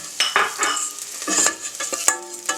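Chopped garlic and a large deseeded green chilli sizzling in hot oil for a chicken curry, with a spoon repeatedly stirring and scraping the pan in short, close bursts.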